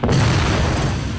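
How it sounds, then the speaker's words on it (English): In the video game Jak II, a boomstick explosion lands as a loud, close boom that fills the moment with a deep rumbling blast and sustained roar. "Man, Jinx, what did you put in those boomsticks? Big explosion."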